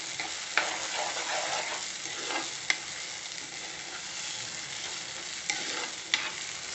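Chopped tomatoes frying in a pan for a lentil-dumpling curry, a steady sizzle broken by a few sharp scrapes and knocks of a spoon stirring them, close and with no one speaking.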